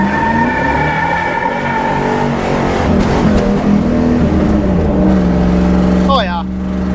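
A third-generation Camaro does a burnout, its rear tires spinning against a droning, revving engine that holds steady before easing off near the end, close and loud with no other sound on top.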